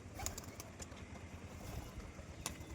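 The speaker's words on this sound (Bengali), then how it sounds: "সকালবেলা পায়রাগুলোকে বাইরে ছাড়লাম" Pigeons let outside in the morning sun, giving faint, soft wing flutters and low calls over a steady outdoor background hiss, with a few sharper flaps near the start and end.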